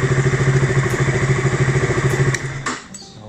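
A 2019 KTM RC motorcycle idles up close with a steady, lumpy pulsing beat that runs loud and even, then drops away abruptly near the end, leaving a brief fading clatter.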